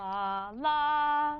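Two sustained tones in succession, the second sliding up a fifth above the first, each rich in harmonics, close and steady with no talking.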